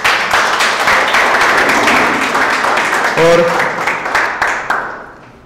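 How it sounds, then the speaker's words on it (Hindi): An open mic audience breaks into lively clapping that stays strong for several seconds before thinning out and fading, with a brief voice cutting in partway through. "एक बार सही में तालियां अच्छी उनके लिए बजा दीजिए"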